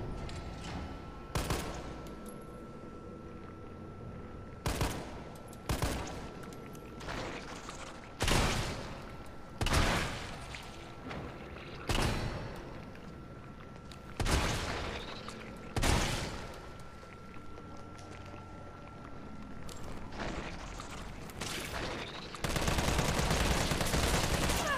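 Shotgun blasts in the Resident Evil remake video game: about a dozen loud, booming shots spaced a second or two apart, each with a short decaying tail, over a low game ambience.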